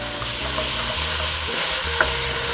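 Onion, sausage and pork mixture sizzles steadily in a hot pan while a utensil scrapes and stirs across the bottom, with one sharp clink near the end; no talking.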